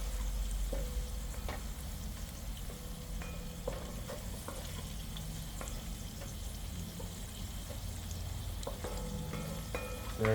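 Tomatoes and potatoes fry in a pan alongside eggs for a curry, giving a steady soft sizzle throughout with occasional light scraping and stirring clicks, fairly quiet and close.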